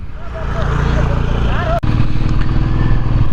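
Motorcycle engine droning steadily while riding on a mountain road in West Sikkim, near Jorethang, with a voice speaking over the continuous hum.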